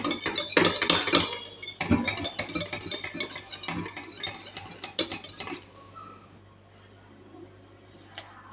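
Half a cup of curd being beaten in a bowl for an eggless cake, with quick, busy clinks and scrapes of utensil against the bowl that fade into quiet after a few seconds.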